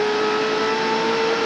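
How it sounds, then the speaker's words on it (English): A NASCAR Winston Cup race car accelerates at Daytona International Speedway during the 1998 Bud Shootout. Its engine drones as a steady, sustained tone that climbs slightly, heard alone without voices. "He starts to accelerate just a little bit."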